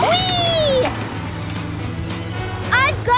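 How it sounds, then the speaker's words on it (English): A cartoonish cat meows twice, at the start and near the end, in a children's PAW Patrol rescue video game, over a steady game soundtrack and engine hum. "I've got a cat to catch."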